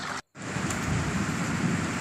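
Steady rain falls during a November shower in Konkan, a dense, even hiss of drops on surfaces that cuts out for a moment near the start, then returns close and constant with no voices.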